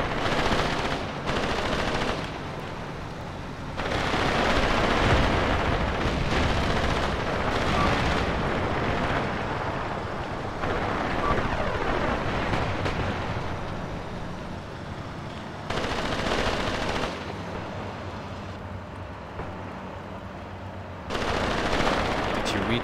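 Panzer III tanks fire in a Graviteam Tactics Mius battle. Sustained loud rumbling gunfire and explosions roll on almost without pause, broken only by brief dips, with no clear talking.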